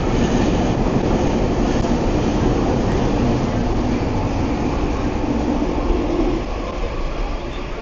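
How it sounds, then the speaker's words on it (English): Loud, steady rumble of a Vancouver SkyTrain rolling into a station close by, broadband roar holding for several seconds before easing slightly at the end. "here comes the SkyTrain."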